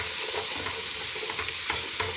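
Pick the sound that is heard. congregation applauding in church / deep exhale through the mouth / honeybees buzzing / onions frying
onions frying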